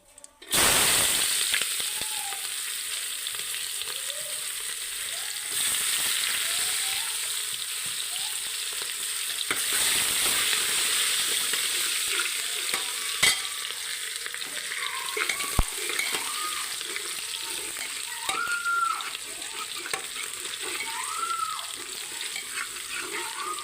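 Onions go into hot oil already seasoned with cumin and asafoetida for a Kathiawadi green pigeon pea curry, setting off a steady, close sizzle that runs unbroken, with scraping stirs breaking through now and then.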